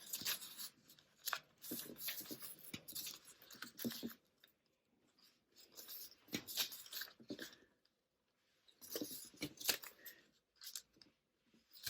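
A strip of paper is folded over and over into a paper slinky, giving close, soft crinkling and scraping in bursts with brief quiet gaps between.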